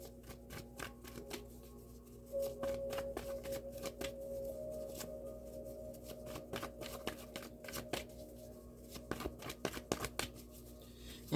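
Tarot cards shuffled by hand in a steady run of crisp, rapid riffling clicks and slaps, fairly close and moderately loud, with a faint background hum and no talking.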